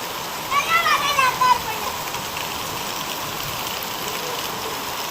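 Summer hail and rain in the Konkan region fall in a steady close hiss, with children's voices calling out briefly near the start over the downpour.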